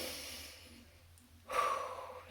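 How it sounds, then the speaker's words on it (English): A child takes one big sniff, a short, soft rush of breath drawn in through the nose, faint and close against a quiet room. "That was a big sniff."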